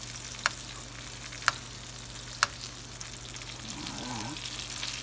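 Steak fries in brown butter in a tilted pan for a steak sandwich. A steady, close sizzle carries three sharp spits early on and a brief wavering tone near the end.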